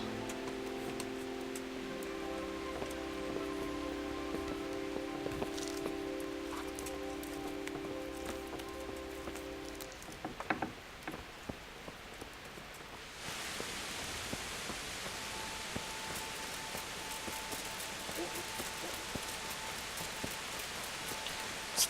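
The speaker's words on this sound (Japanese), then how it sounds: "こんな晴れてんのに雨降るかい。" Rain falls steadily in the medieval video game Kingdom Come: Deliverance, a soft, even hiss that carries on throughout, with a few faint knocks midway and a brighter, denser patter toward the end.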